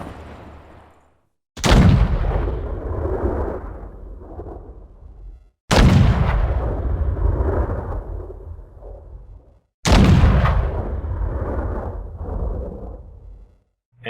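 Three booming shots from a D-10T tank cannon in the video game War Thunder, evenly spaced about four seconds apart, each a heavy blast with a long rumbling decay.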